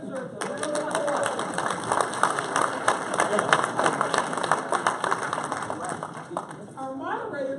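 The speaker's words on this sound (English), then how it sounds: "So I think that deserves a round of applause." Audience at a mayoral forum in Atlanta applauding, a steady patter of many hands clapping at moderate volume for several seconds, with a voice speaking near the end.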